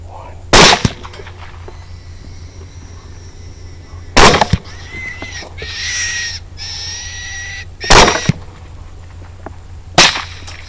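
Rifle shots fired at hogs during a night thermal hunt, four sharp, loud cracks spaced a few seconds apart, with a faint high whine and background murmur between them.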